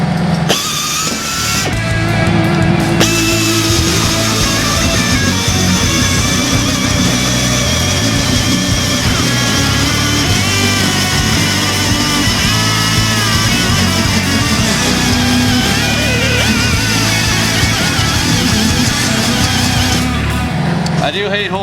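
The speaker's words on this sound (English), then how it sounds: "Hole saw time. That's a good friggin' hole saw." A cheap air drill drives a hole saw through 1/8 inch steel, making a loud, steady grinding whine that runs continuously for about twenty seconds, close up, with the pneumatic motor hissing underneath.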